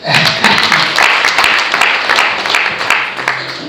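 An audience at a Rwandan engagement and bride-price ceremony breaks into loud, dense applause, many hands clapping in a sustained, close, even burst throughout.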